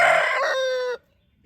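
A rooster lets out a single loud, close crow lasting about a second, followed by sudden quiet.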